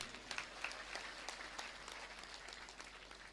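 An audience at a religious discourse applauds in a steady, dense patter of many hands clapping, distant and faint, continuous throughout.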